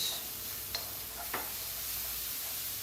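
Garlic and onion frying in a pan give a soft, steady close sizzle, broken by two brief light clicks of utensils.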